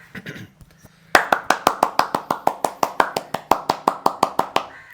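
Hands clapping in steady applause, about twenty sharp close claps in an even quick rhythm following a few scattered taps and a brief murmur.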